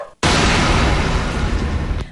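A single firecracker goes off loud and close, a sudden broadband blast that sustains as a roaring burst for about two seconds before cutting off.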